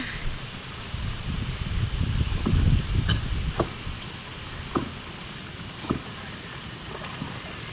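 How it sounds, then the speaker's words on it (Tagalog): Steady roaring wind in a rainstorm by a river buffets the microphone, rising and falling, with a few faint clicks and knocks scattered through it. "Malakas din ang hangin."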